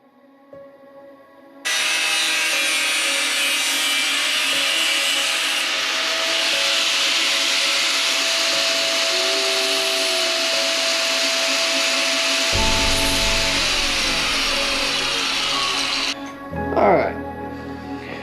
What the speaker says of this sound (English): a little post-process work, deburring them and smoothing out the edges